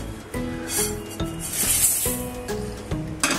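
Half-roasted dal and rice being scraped and scooped out of a pan, a series of rough, rasping strokes repeating in an uneven rhythm, close and moderately loud with no talk.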